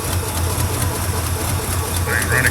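A rebuilt engine idles smoothly with no blow-by, giving a steady, close, low rumble throughout, with a faint brief voice near the end.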